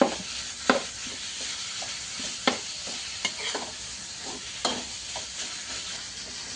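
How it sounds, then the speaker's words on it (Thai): Pork stir-fried with roasted chili paste sizzles in a pan, broken by repeated sharp spatula scrapes and clacks at an uneven pace. The sound is close and moderately loud, with no voices. "น้ำพริกเผาด้วยนะคะนี่นะคะแล้วก็ผัดเลยนะคะ"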